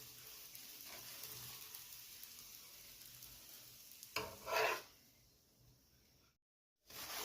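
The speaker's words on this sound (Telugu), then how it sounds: "చూడండి, కొసలు ఇలా నొక్కుతూ కాల్చుకోవాలి." A radish paratha roasts on a pan over low heat, giving a soft steady sizzle with a brief louder crackling burst midway, then a short silence before the sizzle resumes.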